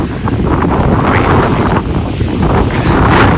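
Strong 30-mile-an-hour wind with higher gusts roars and buffets continuously against the microphone beside a tent, a loud, rumbling gust-driven noise with no voices.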